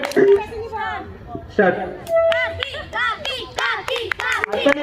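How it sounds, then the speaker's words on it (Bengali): Scattered hand clapping from neighbours at a Saraswati Puja children's competition, irregular bursts mixed with children's and adults' chatter and calls nearby. "সবাই একটু হাততালি দিয়ে উৎসাহিত করো"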